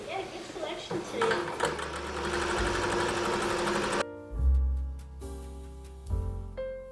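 A home sewing machine stitches a simple seam with a half-inch allowance on a Christmas fabric project. The motor whirs steadily for about four seconds, then stops, leaving a few low mechanical clunks.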